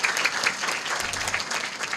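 An audience applauds a woman doctor on a Thai business show, a brief, steady burst of dense clapping from a crowd heard alone.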